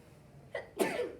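A single quick sneeze, close by, with a short intake of breath just before the burst.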